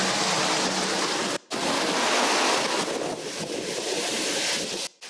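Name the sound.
heavy rain pouring down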